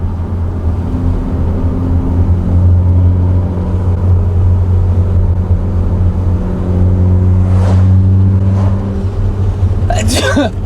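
A 400-horsepower hybrid-turbo Honda Accord roars and builds under a launch-control start at close range, a heavy continuous drone, followed by a sharp sneeze near the end.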